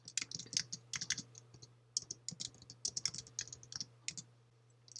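Fast typing on a computer keyboard in Microsoft Word, including presses of the return key, gives close, crisp clicks in irregular bursts over a faint steady hum.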